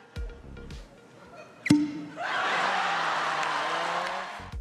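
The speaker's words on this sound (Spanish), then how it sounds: "El sonido de una botella con corcho siendo abierta." A cork pulled from a bottle gives one sharp, quiet pop, followed by a soft sustained hiss that carries on to the end, with no voices.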